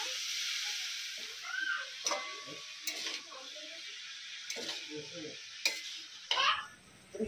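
Chopped cabbage is stirred into spice masala in a pan, with a steady hiss of frying under intermittent scraping and knocking of the spoon, several clear taps against the pan and soft speech-like sounds beneath.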